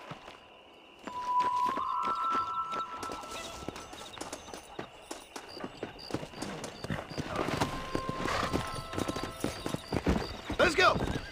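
Horse hooves clip-clopping as a rider sets off in the video game Red Dead Redemption, steady rhythmic clops growing busier and louder toward the end, with a whinny and a voice speaking over it.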